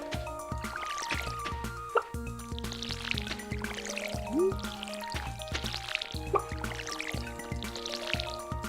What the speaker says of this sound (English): Fill the watering can and let's go water the...